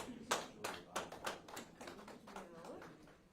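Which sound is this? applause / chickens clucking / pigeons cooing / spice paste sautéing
applause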